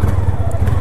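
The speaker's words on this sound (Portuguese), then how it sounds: "Primeiro rolezinho com a moto nova" A new, zero-kilometre Yamaha Fazer 250 motorcycle idles with a loud, steady low engine throb, heard up close for a brief moment.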